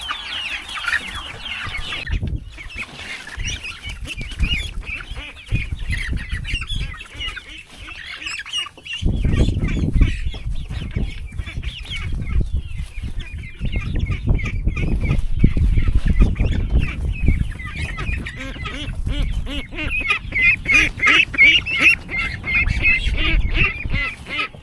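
Chickens and ducks in a coop, with continuous clucking and quacking close by, some louder bursts of calls and rustling, and occasional faint human voices.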